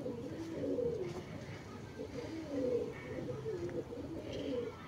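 A male Chinese Teddy pigeon held indoors gives soft, repeated throaty coos in a steady rolling rhythm, close but fairly quiet against low background noise.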